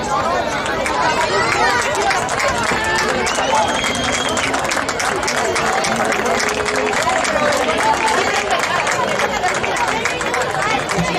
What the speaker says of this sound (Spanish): Fuerte aplauso para ellas.